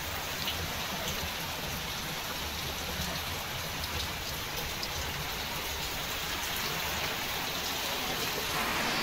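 Steady rain patters evenly on outdoor surfaces for the whole stretch while a German Shepherd plays outside, a dense, unbroken hiss with no clear voices.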